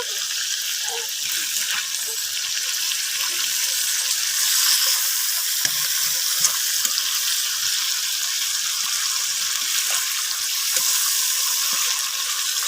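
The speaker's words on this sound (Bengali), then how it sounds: "তো এখন মাছগুলো আমি উল্টে দেব সবগুলো" Pieces of hilsa fish frying in a covered pan, giving a steady, even sizzle that runs throughout at moderate loudness, with a few faint clinks and no speech.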